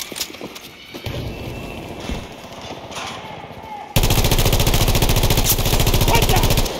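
Gunfire in the video game Battlefield 2042: scattered shots under background noise, then a loud sustained burst of rapid automatic fire.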